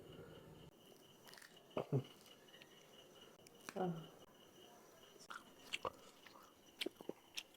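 Someone biting and chewing boiled palmyra sprouts, quiet crunchy bites and chewing scattered irregularly, close to the microphone, with faint handling sounds between.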